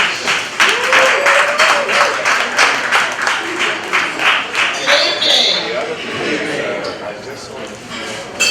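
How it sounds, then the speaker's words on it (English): Audience at an HBCU student success reception claps for Dr. Bell, a steady patter of applause running throughout with voices talking over it. "Round of applause to Dr. Bell"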